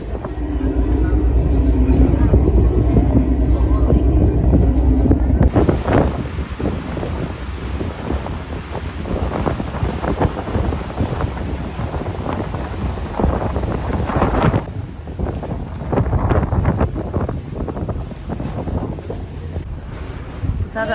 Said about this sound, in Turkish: araba vapuru. Titanik bu. Araba vapuru.